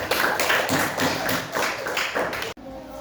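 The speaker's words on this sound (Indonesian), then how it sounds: "Tepuk tangan buat rekan-rekan kita" A classroom group applauds after a student presentation, many hands clapping in a brisk, uneven patter close by for a few seconds before cutting off abruptly into quieter room noise.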